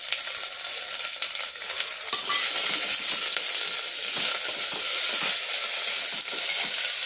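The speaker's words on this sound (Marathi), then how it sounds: "बटाटा, कढीपत्ता, गाजर, कांदा आपण परतून घेऊ।" Potato, curry leaves, carrot and onion sauté in a hot pan for veg pulao, giving a steady broadband sizzle with scattered stirring scrapes that grows slightly louder a couple of seconds in and stays close and continuous.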